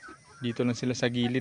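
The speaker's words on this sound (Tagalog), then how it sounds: "So ayan yung manok natin sa labas." Chickens cluck briefly nearby while a person talks over them.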